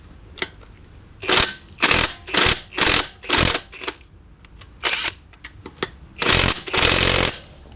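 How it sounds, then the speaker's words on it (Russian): AliExpress impact wrench tightening a nut, firing in about nine sharp, loud hammering bursts, some short and some longer, with a sustained final run and brief quiet gaps between them. "Давайте проверим на одной гайке, вот на верхней, насколько сам гайковерт сможет затянуть"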